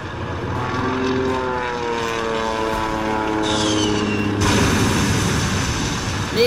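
A Stuka dive bomber's propeller engine in the video game Panzers drones loudly, its pitch sliding as it passes close overhead, with a burst of rumbling noise near the end.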